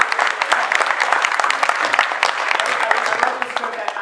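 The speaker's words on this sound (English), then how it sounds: "we should give a warm round of applause for Core's original and Sandeep's roommate L" Audience at a comedy panel event clapping steadily in a warm round of applause, a dense, continuous wash of many hands filling the room for the full stretch.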